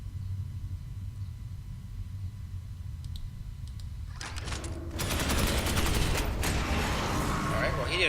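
Gunfire in Space Hulk Ascension, a sci-fi squad game: after several seconds of low, quiet hum, a loud volley of rapid shots and mechanical clatter bursts in and keeps going, with a voice talking alongside.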